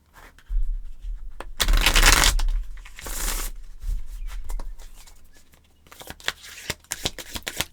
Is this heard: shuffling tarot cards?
yes